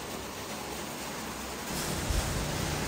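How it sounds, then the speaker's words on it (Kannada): Heavy rain falls steadily outside a home, a dense, even hiss that swells slightly louder partway through, with no voices. "ಮಳೆ ನೋಡಿ ಎಷ್ಟು ಜೋರಾಗಿ ಬರ್ತಿದೆ"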